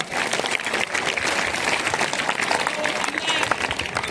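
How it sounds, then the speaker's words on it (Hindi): An audience at a government school Republic Day event breaks into applause, dense sustained clapping that fills the hall, with voices mixed in beneath it. "अगर प्रस्तुति पसंद आई हो तो तालियां तो बजाइए"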